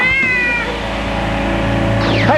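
A cat meows with a rising, tonal call near the start and a second short meow at the end, set against a steady low background hum from a BattleBots arena setting.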